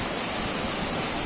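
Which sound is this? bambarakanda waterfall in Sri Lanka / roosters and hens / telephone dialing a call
bambarakanda waterfall in Sri Lanka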